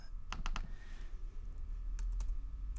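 Quick keystrokes on a computer keyboard come in two short clusters of clicks, the first near the start and another about two seconds in, close and clear over a faint background hum.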